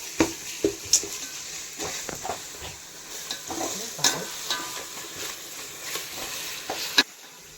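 Ginger and garlic sautéing in hot oil in a pan, a steady soft sizzle broken by several sharp stirring scrapes and clicks, close and moderately loud with no talk.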